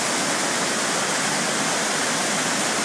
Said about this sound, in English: Waterfall behind that rock.